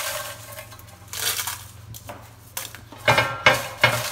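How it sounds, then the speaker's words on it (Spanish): Dried chiles de árbol dropped into a container, heard as light rattling clatters and sharper tapping hits in a few distinct bursts toward the end, close and fairly crisp, with no speech. "Vamos a echar todos los chiles adentro."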